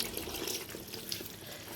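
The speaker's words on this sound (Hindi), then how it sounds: "अब इसमें हम ग्रेवी के लिए पानी ऐड करेंगे" Water is poured into a pot of chicken qorma to make the gravy, a continuous splashing stream that is fairly close and steady for the whole moment.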